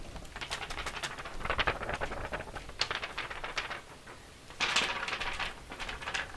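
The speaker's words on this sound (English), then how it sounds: "If you wiggle the paper a little, it sounds like thunder." Paper crinkles and rustles steadily up close, crackling in quick irregular bursts, with a louder flurry of rustling near the end.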